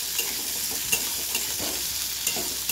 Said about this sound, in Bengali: আলুটা আগে লাল করে ভেজে নিই, তারপরে ঝিঙেটা দেবো।